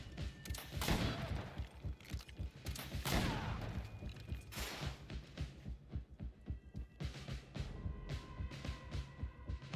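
Gunfire in the video game Greedfall, with a few heavy blasts early on followed by rapid rhythmic thumping bursts. Combat effects stay loud throughout, with no talking over them.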